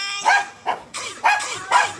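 Dogs in a house bark repeatedly, five loud, evenly spaced barks in quick succession, close by and with no talking.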